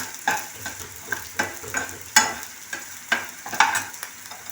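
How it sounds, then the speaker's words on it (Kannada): Coriander seeds, dried red chillies and black peppercorns fry in a pan for sambar, a soft steady sizzle broken by regular scraping clinks of a spoon stirring, close up. "ಎಲ್ಲ ಚೆನ್ನಾಗಿ ಫ್ರೈ ಮಾಡ್ಕೊಳ್ಳೋಣ."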